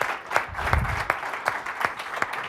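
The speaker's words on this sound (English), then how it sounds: "I think we should give him a round of applause" An audience at a Microsoft technology presentation applauds after a live demo. The clapping is moderate and spread through the room, with some sharper individual claps standing out over roughly two and a half seconds.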